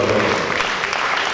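An audience at a mushaira, a Hindi-Urdu poetry gathering in Nizamabad, applauds in a dense, steady wash of clapping that fills the hall without pause.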